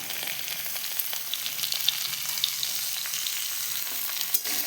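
Ginger and green chillies fry in hot oil with a steady, close sizzle and crackle that continues without a break, with faint stirring beneath it.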